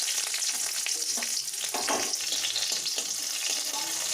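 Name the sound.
garlic and green chilies frying in oil in a wok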